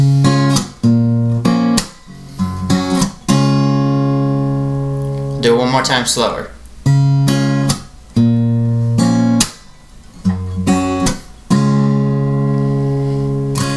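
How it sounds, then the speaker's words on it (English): Plucked acoustic guitar chords, four strings struck together and left to sustain, ring out repeatedly in a steady pattern, with a voice speaking briefly in between. "you're going to pluck all four strings in the chord at the same time"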